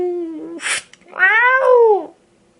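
A voice lets out a drawn-out imitation cat howl, rising and falling in pitch, after a short spoken bit and a breathy burst, then trails off into quiet.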